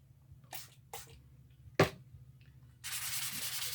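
Quartz stone being sanded and polished with 500-grit abrasive: a few short scraping strokes, one sharper louder scrape, then a steady, close rushing rub carrying on to the end.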